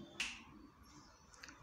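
A single crisp finger snap, close and sharp, in an otherwise quiet room indoors, followed by faint low background noise.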